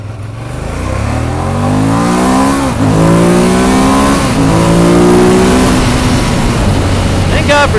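A 2016 Ducati Monster 1200 R motorcycle engine revs hard through repeated rising sweeps. Its loud, close throaty pitch climbs, drops and climbs again as it pulls through the gears, with a brief sharp noise at the end.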